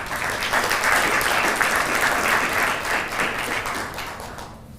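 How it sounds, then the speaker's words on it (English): Audience applause at a consultative meeting in Nairobi, a sustained wash of many hands clapping at even strength that fades toward the end. "Another round of applause for him"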